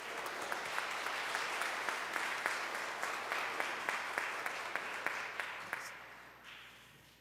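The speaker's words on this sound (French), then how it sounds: "Je vous demande de les applaudir tous ensemble." Congregation applauding together during a Sunday Advent Mass in a church, a sustained, fairly distant wash of clapping with some louder individual claps, lasting several seconds before tapering off at the end.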